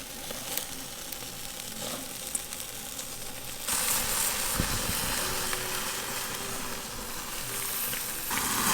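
Chicken thighs searing on a charcoal BBQ give a soft, continuous sizzle and hiss that jumps louder partway through as more meat meets the hot grate, with a faint clink of metal near the middle.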